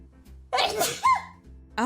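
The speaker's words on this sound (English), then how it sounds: "I'm gonna sneeze." One person sneezes indoors, a sharp mid-loud burst rising after a short intake, with a brief voice following right after.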